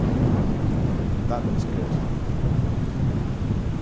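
Steady rain and a low thunder rumble from a Microsoft Flight Simulator scene at Notodden Airport in Norway roll on continuously, with a brief spoken remark under the downpour.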